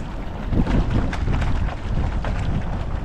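Mixed masters eight-oared rowing shell on the water, with blades squaring and catching together, heard as soft rhythmic splashes and rushing water under wind noise, close to the boat.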